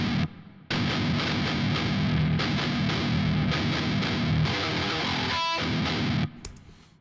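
Heavily distorted electric guitar plays a dense, loud metal riff with chugging palm-muted notes and quick hammer-ons on the same notes, sustained and continuous until it cuts off near the end.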